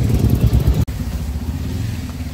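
A motorbike ridden through city traffic gives a steady, loud engine drone with road rumble and wind buffeting, and one brief dropout partway through.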